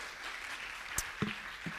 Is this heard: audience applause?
yes